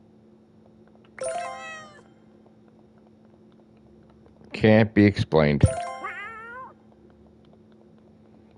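Cartoonish cat meows from a find-the-cats video game, a short mew early on and a longer wavering meow near the end, with a voice talking briefly in between over a faint steady hum.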